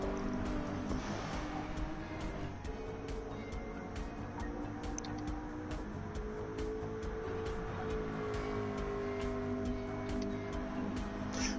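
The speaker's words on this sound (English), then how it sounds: "car does make a pretty sound." A video game race car engine gives a steady drone with sustained tonal hum and shifting pitch, continuous and fairly quiet, punctuated by faint regular ticking clicks.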